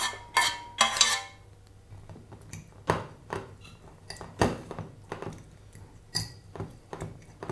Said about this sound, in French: on débarrasse les courgettes, puis on va les écraser à l'aide d'une fourchette